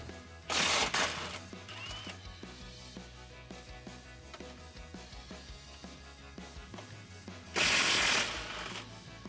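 A ratchet with a 16mm socket works on the rear frame bolts of a Jeep Wrangler JL, giving a run of rapid, even clicks bracketed by two louder, rushing bursts of mechanical noise.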